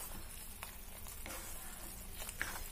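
Roasting ingredients for tilgul laddoos get stirred in a heavy-bottomed kadhai, giving a soft continuous sizzle broken by faint scraping strokes at an uneven rhythm, quiet and close.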